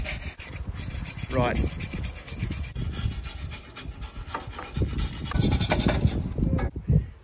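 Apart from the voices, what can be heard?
brushing a tractor carburetor clean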